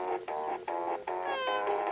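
A cat meows several times in quick succession, close and clear, each call short and tonal with brief pauses between.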